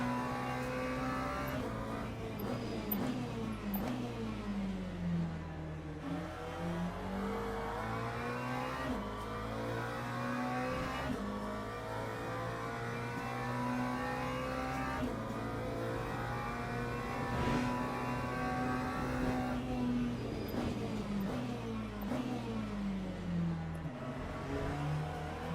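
Porsche race car in the Le Mans Ultimate sim at the Daytona 8-hour event, its engine revving up and down continuously through gear changes, loud and close throughout with no talk.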